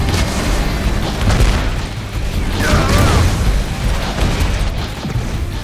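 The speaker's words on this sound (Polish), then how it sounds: "Kurde, na wybuchającej beczce był." A loud, rumbling blast from an exploding barrel in the shooter Hard Reset, a dense roar that swells and lingers with crackling debris over several seconds.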